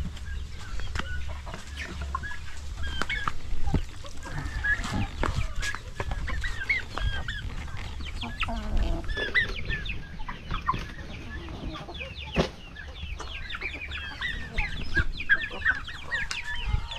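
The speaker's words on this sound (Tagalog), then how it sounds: "mga malalaking manok" Chickens cluck and chatter repeatedly at a moderate distance, with scattered sharp clucks over a low background hum, fairly quiet overall.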